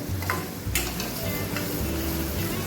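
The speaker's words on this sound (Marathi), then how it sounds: "आता कढईमध्ये एक चमचा तेल घालून घेऊयात त्यात दोन बारीक चिरलेले कांदे घालूयात" Finely chopped onions hiss and sizzle steadily in a spoonful of hot oil in a kadhai, with a few stirring scrapes and clinks over the continuous frying.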